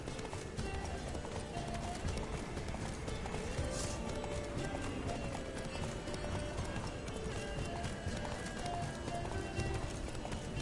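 Rapid, steady hoofbeats of a galloping horse in The Witcher 3: Wild Hunt pound continuously, with an occasional whinny and faint voices in the background.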